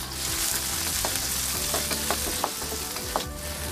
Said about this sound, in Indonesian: Lalu sisakan sedikit minyak, tumis bawang putih, bawang merah,